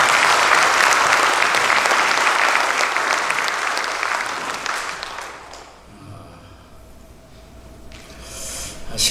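A church congregation at an evangelistic revival meeting applauds loudly for several seconds, then the clapping fades out into quieter room noise.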